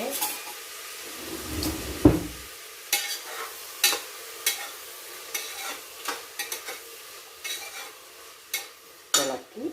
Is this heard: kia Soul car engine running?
no